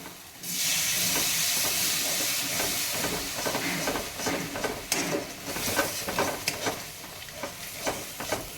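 Water poured into hot spiced oil masala in a pan for an egg curry, bursting into a loud, steady sizzle and hiss that gradually settles into uneven bubbling crackles, heard close up with no talking.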